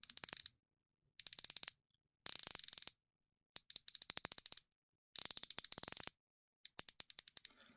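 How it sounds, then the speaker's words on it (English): A Timascus dive watch bezel turns in six quick bursts of crisp, closely spaced ratcheting clicks, separated by brief silences, close and quiet. "Now, the bezel rotation is very smooth."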